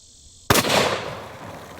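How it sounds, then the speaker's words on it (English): A gunshot fired into a water-filled barrel bursts it, giving one sharp loud crack followed by a splashing, hissing spray of water that fades over about a second. "Judging from the explosion of water, it looks like it worked."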